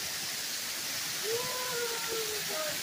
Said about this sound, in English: Show you guys the waterfall.